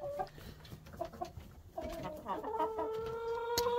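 A silkie chicken in a rooster pen clucks in short repeated calls, with a louder drawn-out bird call joining toward the end, all close by.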